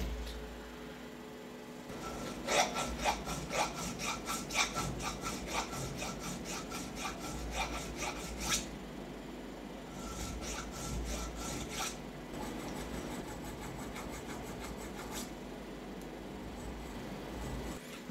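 A hand file rasps excess silver solder off a metal washer, repeated rapid scraping strokes in bursts with short pauses between them, close and fairly quiet, with no talking.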